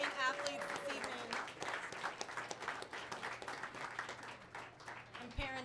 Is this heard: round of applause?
yes